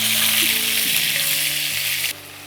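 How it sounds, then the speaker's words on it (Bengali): Medium-size onion paste hitting hot oil in a pan for a Bengali yam and sesame dish, with a loud, steady hiss and sizzle that then drops off abruptly. "দুটো মাঝারি সাইজের পেঁয়াজ বাটা, দুটোই আমি দিয়ে দিলাম।"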